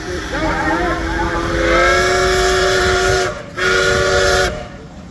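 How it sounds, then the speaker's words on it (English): A deep, chordal American five-chime steam whistle on a steam engine at a steam rally blows long and loud, a rich multi-toned blast with a brief break before sounding again, then fading. "So I think that's an American 5-chime whistle. Beautiful sound."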